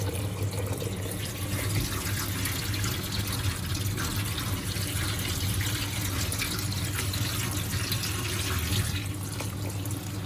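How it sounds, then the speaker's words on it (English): Tap water runs steadily over brown lentils in a sink, a continuous close splashing rush with a faint low hum underneath, unbroken for the whole stretch. "the water is now starting to run clear"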